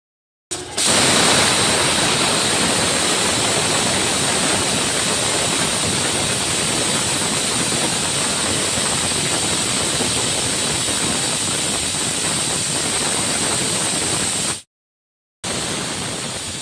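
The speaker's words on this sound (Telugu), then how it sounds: "మూత పెట్టేసుకొని ఒక 3 విజిల్స్ పెట్టేసుకుందాం" Pressure cooker with meal maker (soya chunk) biryani made with normal rice, hissing a loud steady rush of steam almost continuously for about fourteen seconds, broken by a brief pause near the end before the hiss resumes.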